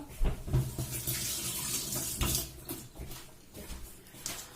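Water runs from a tap in uneven splashy bursts as hands are wetted under it, close and moderately loud, with no talking.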